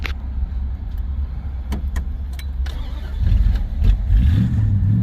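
A 1971 Dodge Polara's engine cranks and catches, its mid-pitched idle swelling louder and rougher after about three seconds, with a few sharp clicks earlier over a steady low rumble.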